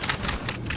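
Loud, close clacking of a computer keyboard in rapid bursts of keystrokes, sharp and percussive, with no talking.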